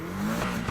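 A Lotus Exige S with a stock 2.5-litre flat-four revs in Need for Speed Heat, a short, steady, loud engine drone with no pauses.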